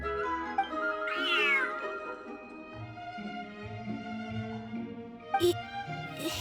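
A cat meows in drawn-out, pitched calls, one rising and falling sharply, followed by lower sustained mewing, close and fairly loud against a quiet background.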